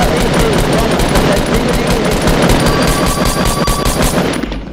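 Rapid automatic gunfire in a Fortnite match, loud and continuous bursts of shots firing close up for several seconds with almost no talking over them.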